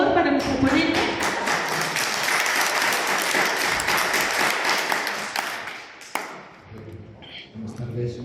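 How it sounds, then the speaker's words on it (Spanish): Applause for a speaker at a library and documentation seminar, loud and sustained from a large audience, tapering near the end as a voice begins to speak. "un aplauso, por favor, para nuestro ponente"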